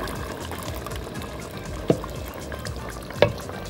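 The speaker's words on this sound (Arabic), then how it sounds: "هقلب كل ده مع بعضه." A spoon stirs minestrone soup of broth and fresh tomato juice in a pot, giving a soft continuous liquid swishing and bubbling with two brief clinks against the pot.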